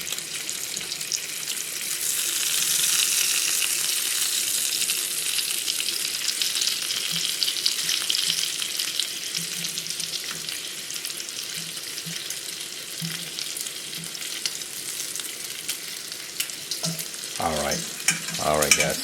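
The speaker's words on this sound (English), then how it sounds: "You hear it sizzling." Hamburger and bacon sizzle steadily in a pan, a bright continuous crackle that stays close and fairly loud, with a few clattering knocks near the end.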